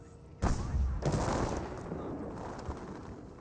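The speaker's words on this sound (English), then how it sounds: "Lieutenant firing some shots there onto that Volks Grenadiers" Battle sounds from the Company of Heroes real-time strategy game: a heavy burst of gunfire and blasts opens, followed by a dense, rumbling wash of distant combat that fades slowly.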